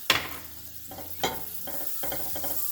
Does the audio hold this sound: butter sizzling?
yes